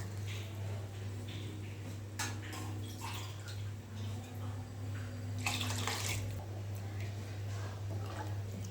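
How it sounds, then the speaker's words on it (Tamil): Water poured into rice in a pot while making mushroom biryani, a steady quiet splash and trickle with a faint low hum beneath and a brief fuller gush toward the end. "நான் ரெண்டு டம்ளர் அரிசிக்கு நாலு டம்ளர் தண்ணி சேர்த்துக்கிறேன்"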